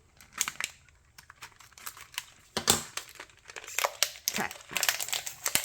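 Crinkling and tearing of tape and packaging as a parcel holding a resin Christmas tree is pulled open, close and fairly loud in irregular bursts, with a brief spoken word early on.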